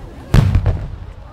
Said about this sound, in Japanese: 水中花火です。